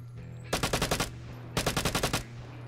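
Light machine gun fire in the video game Vigor: two rapid bursts of about eight shots each, loud and punchy, over a steady low in-game hum.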